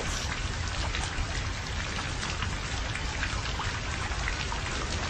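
Rain falls steadily, a dense, even patter of drops on surfaces, moderately quiet and constant with no voices.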